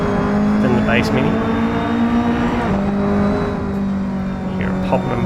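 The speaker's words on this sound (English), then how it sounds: "You hear it popping and burbling away back there." A Mini race car in the Assetto Corsa racing game, its engine droning steadily as the exhaust pops and burbles intermittently behind, with someone talking over it.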